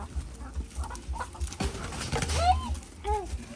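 Chickens clucking on a sheep farm in Ubon Ratchathani, a few short clucks and a rising squawk heard at moderate distance amid outdoor noise, with people talking nearby.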